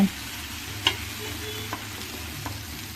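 Small-cut pumpkin pieces frying in a pan, a close, steady sizzle with a few soft stirring scrapes and clicks, no talking.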